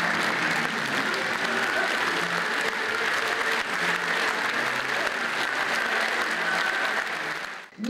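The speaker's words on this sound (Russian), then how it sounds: "Приветствовали поэта аплодисментами." An audience in Omsk applauds the poet Yevtushenko, a full, even wash of clapping from a large crowd that holds steady for about eight seconds before cutting off abruptly.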